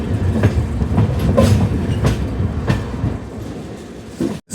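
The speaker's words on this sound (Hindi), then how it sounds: "अभी हमारी ट्रेन यहाँ से निकलते हुए आगे बढ़ेगी" A train rolls through Patharkhola railway station without stopping, with a steady, loud rumble and rhythmic clickety-clack of wheels heard from on board, and no talk.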